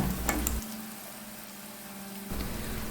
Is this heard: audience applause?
no